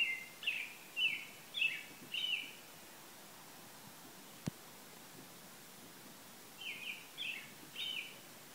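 Birds chirping in trees near Timberline Road at Earls Cove, heard as short high tweet phrases in two clusters with a quiet gap and one faint click between, fairly distant against soft ambient hiss.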